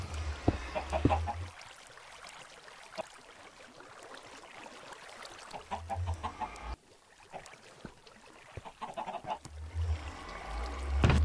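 Chickens in the Minecraft Skyblock video game cluck in three short bursts spaced a few seconds apart, moderately quiet over faint background game ambience, with no voices.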